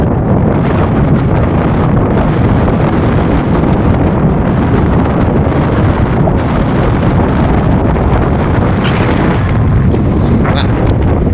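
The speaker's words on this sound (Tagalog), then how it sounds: "may pito yung hangin. May pito talaga." Loud, constant wind roaring and buffeting the microphone outdoors near a road, with a thin whistling tone rising briefly near the end.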